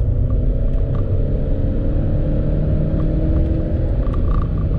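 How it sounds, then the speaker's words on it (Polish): Dacia Duster Hybrid accelerating at full throttle out of town, a loud, continuous low rumble of engine and road noise heard from inside the car, steady throughout with no talking. "Wyjeżdżamy z terenu zabudowanego, gaz w podłogę."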